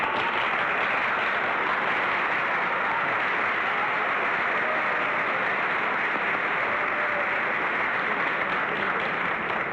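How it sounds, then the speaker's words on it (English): Studio audience on a 1966 television game show reacting with sustained applause mixed with boos, a dense, even roar of clapping that carries on loudly for nearly ten seconds without a break. "You noticed there was mixed boos and applause"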